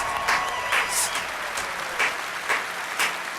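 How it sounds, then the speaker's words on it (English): Audience applause at the E3 2015 Fallout 4 presentation, a brief stretch of crowd clapping with rhythmic bursts of cheering, fairly close and steady. "can I please get another round of applause for that man?"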